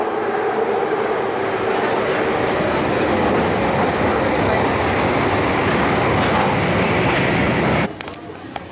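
A London Underground train rumbles and rattles loudly and steadily with a clattering roar, then the noise drops away abruptly near the end.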